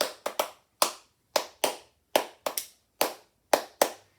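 Bare hands clapping out an uneven beat, about a dozen sharp, close claps, some in quick pairs, with silence between them.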